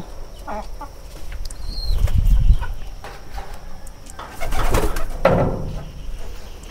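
Pigeons coo at close range with bursts of flapping wings around a household loft where new pigeons have laid eggs, the calls and wingbeats rising in two busier clusters amid quieter moments.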